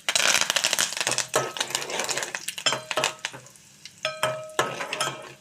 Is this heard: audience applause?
no